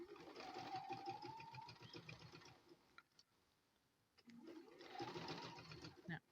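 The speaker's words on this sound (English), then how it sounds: "I'm going to put it back through my machine" A sewing machine runs in two bursts of rapid, rhythmic stitching through pinned quilt fabric, separated by a brief pause, loud and close.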